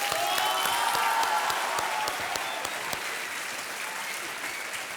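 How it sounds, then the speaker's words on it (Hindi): A studio audience on the Hindi quiz show Kaun Banega Crorepati applauds a contestant's win, steady dense clapping at fairly strong level that eases slightly toward the end. "तालियां बजती रहनी चाहिए इनके लिए।"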